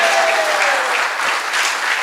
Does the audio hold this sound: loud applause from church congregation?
yes